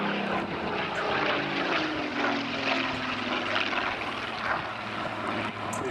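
A Supermarine Spitfire PR.XIX reconnaissance plane of the Rolls-Royce Heritage Flight passes overhead at the Midlands Air Festival, its propeller engine a loud, steady, throbbing drone that holds throughout.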